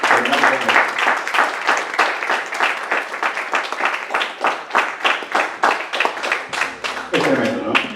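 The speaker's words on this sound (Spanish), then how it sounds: "Denle un aplauso al Señor." A church congregation claps in rhythmic unison, loud, crisp beats at a brisk steady tempo that keep going throughout, with a faint voice joining near the end.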